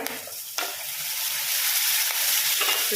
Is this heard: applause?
no